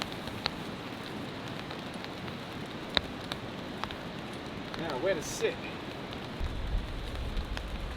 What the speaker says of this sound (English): Well, the rain isn't coming in,